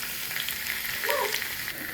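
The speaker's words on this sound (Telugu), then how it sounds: "చుక్కకూర పచ్చడిలో ఈ పోపు పెట్టుకోవాలండి" Tempering of spices, crushed garlic and curry leaves sizzling in hot oil for sukkakura pachadi, a continuous close crackle with a few stirring scrapes.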